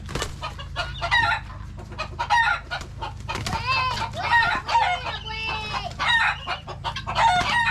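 Chickens squabbling inside a chicken tractor on a farm, with a rooster crowing and agitated clucks and squawks overlapping in rapid, close, busy bursts, continuing throughout without speech.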